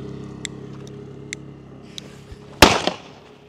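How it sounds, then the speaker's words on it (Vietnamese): A string of Chinese firecrackers lit for Lunar New Year 2024: a few scattered small pops, then a loud, sharp burst of rapid cracks near the end, close by and alone with no talk. "Tí mình sẽ chơi một phát nổ luôn."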